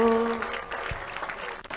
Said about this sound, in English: A big clap of ring to Jesus.